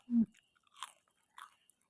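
A crispy fried banana snack made from kluai namwa bananas is chewed close up, with one sharp bite followed by two quieter crunchy chews in a quiet room.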